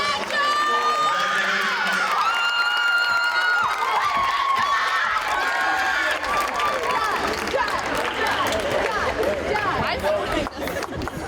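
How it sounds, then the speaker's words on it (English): A high school gym crowd at an athletic signing day cheers, whoops and shouts continuously, children's voices and chatter layered loudly over the applause. "one more big round of applause"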